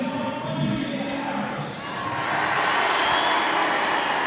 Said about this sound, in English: Big crowd here.